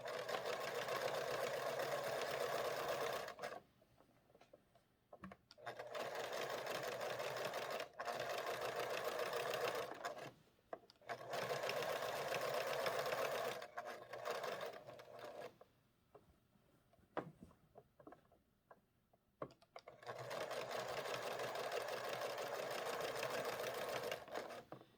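A sewing machine stitches a hanging sleeve onto a quilt, running in steady multi-second bursts separated by short pauses with faint handling noises, close and clear with no talk.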